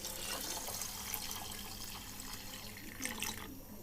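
Water pours and splashes in a kitchen while rice is rinsed for neer dosa batter, a steady soft running-water hiss with light sloshing, fairly quiet and close.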